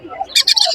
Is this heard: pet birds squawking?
yes